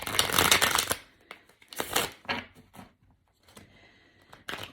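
Pocket-size tarot card deck shuffled by hand, bursts of crisp riffling and flicking in quick, irregular clusters, close and fairly quiet with short pauses between.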